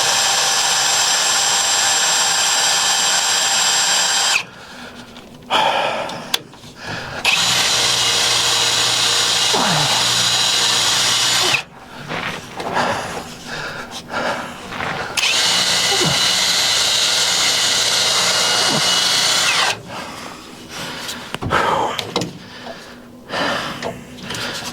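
A power drill with a dull bit bores into metal on a Ram 3500 dually transfer tank setup, in three long loud bursts separated by pauses filled with shuffling and handling noise.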